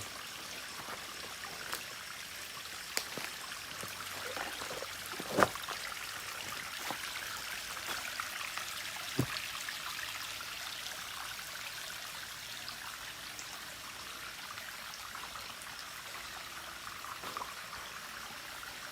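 Rain-swollen stream water rushes steadily downhill near a waterfall, a continuous broadband hiss with a few brief knocks, heard at moderate distance and fairly faint, with no voices.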